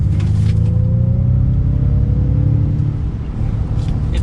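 A 2022 Ford F-150 Lightning Platinum electric pickup plays its synthetic engine sound while revving: a loud, steady low rumble with a faint tone rising slowly through it, continuous for several seconds, no talking.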